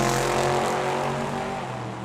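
Patinaed Chevys drag racing at Tucson Dragway, a loud sustained engine roar with strong harmonic drone fading slightly as the cars pull away, no talking.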